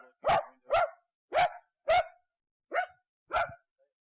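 A dog barks in alarm inside a house, six sharp, evenly spaced barks at moderate distance with brief silences between them, and no other sounds.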